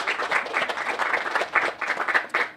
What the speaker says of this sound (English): So let's give them an applause and thank them for sharing their time with us.